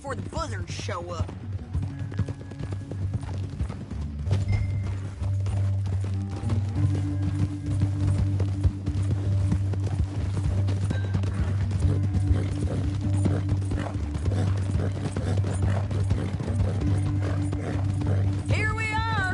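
Horse hooves clip-clop at a steady trotting rhythm in Red Dead Redemption 2, continuous and fairly close, mixed with creaking tack and a low rumbling bed of game sound.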